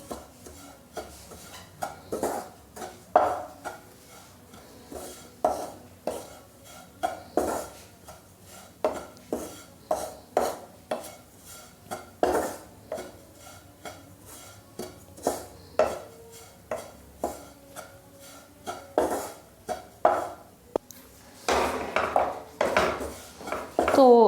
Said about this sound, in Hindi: थोड़ा सा इसको भी भून लेंगे आटे के साथ ही